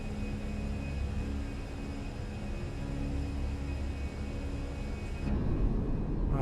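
Airliner jet engines rumble steadily as the plane accelerates for takeoff in Microsoft Flight Simulator, a broad continuous roar with faint whining tones that swells louder near the end, with no voices.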